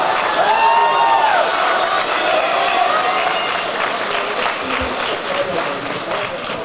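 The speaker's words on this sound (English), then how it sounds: "A round of applause to yourselves and all your parents who motivate you." Sustained applause from an audience at a high school JROTC awards ceremony honoring cadets and their parents, loud and close throughout, with a voice heard faintly over the clapping.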